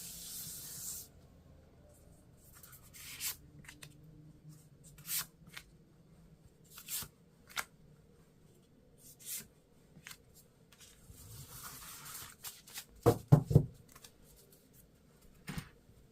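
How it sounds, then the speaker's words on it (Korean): Tarot cards are drawn one at a time from a deck, giving soft, brief papery swishes and slides scattered over a very quiet background, close and faint with no voices. "제가 이 카드로 1번부터 4번까지 조언을 먼저 한 장씩 뽑아보도록 하겠습니다"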